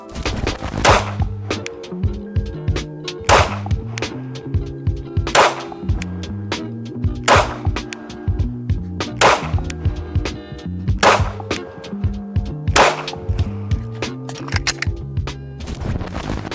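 Handgun shots fired one at a time during a shooting demonstration, each a sharp loud crack with a short ringing tail, spaced roughly a second or two apart in an irregular rhythm over a low steady background.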